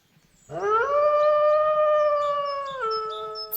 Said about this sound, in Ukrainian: Це вовк.